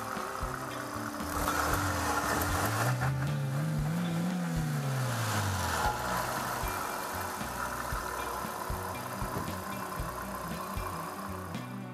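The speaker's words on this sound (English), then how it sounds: "It sounds like straight 4-cylinder engine." A four-cylinder petrol engine idles steadily at low revs, a smooth even hum with a brief rise and fall in pitch near the start.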